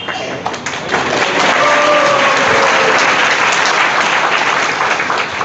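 Applause from a seated audience at a Hindi devotional talk, a dense steady patter of many hands clapping that swells within the first second and holds at a loud, even level to the end.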